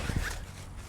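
A quick, close zip as a wing pack is closed up for downwinding, one short rasping pull near the start followed by faint ambient noise.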